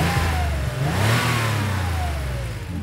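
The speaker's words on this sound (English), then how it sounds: "started revving the engine" A car engine revs up and down loudly and close, its pitch rising and falling continuously with a rough, throaty low end throughout.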